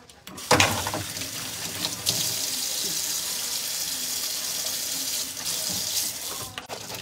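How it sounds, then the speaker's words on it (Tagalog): Steady rain falls outside, a broad even wash of sound lasting the whole stretch, with a few sharper knocks and rustles near the start and end. "Maulan ngayon dito sa labas."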